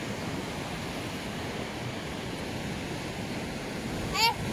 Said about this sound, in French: Waouh, les grosses vagues!